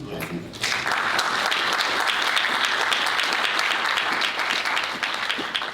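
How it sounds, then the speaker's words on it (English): Audience at a Black men's mental health conference in Atlanta bursts into sustained, dense applause after a brief quiet opening, steady and loud throughout with no pause. "Can we just applaud all the men that's here today?"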